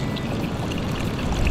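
Hot, geothermally heated spring water in South Iceland flows steadily, a close, continuous rushing and trickling wash with no voices over it.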